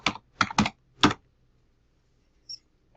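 A few sharp computer keyboard keystrokes close by, clustered in a quick burst of four clicks within the first second, then near silence with one faint click later.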